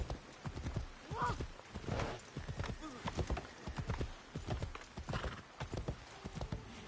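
Horse hooves clip-clopping at a steady trot in the video game Assassin's Creed Shadows, close and rhythmic with a brief whinny, under someone talking.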